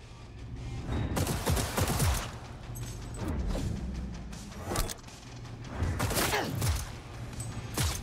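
Gun bursts in a video game firefight, several loud volleys with booming impacts spread across the span, separated by brief lulls of lower battle noise.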